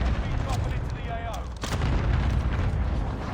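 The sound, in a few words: airstrikes in the video game Call of Duty Rebirth Island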